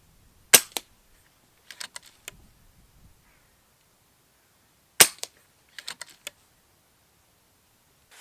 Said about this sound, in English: to see what it was like for my pressure testing, how many actual shots I was going to get from the rifle